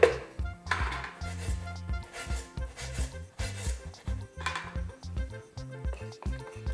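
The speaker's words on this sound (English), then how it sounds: "Stir it up." Rice with a little salt is stirred in a pot, giving a steady run of soft scraping and light clinking strokes close by, with no talk.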